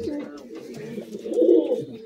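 A Madrasi high-flying pigeon in a Kolkata Behala loft gives a short, close, throaty coo that builds and peaks near the end, with a voice mixed in.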